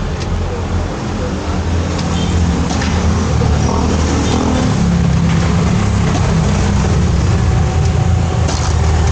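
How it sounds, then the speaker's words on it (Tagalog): A motorcycle with a weak battery starts and settles into a loud, close, continuous engine rumble that holds steady throughout, with no speech over it. "start ko lang ito motor ko"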